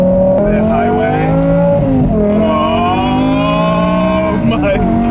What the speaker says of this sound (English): That glorious V10 sound.